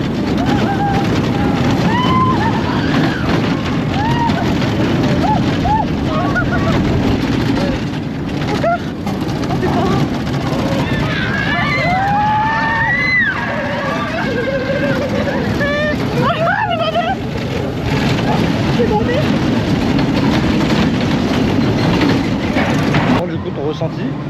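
Roller coaster train ride at Parc Astérix, a loud continuous roar of the cars running along the track with riders screaming and shouting throughout.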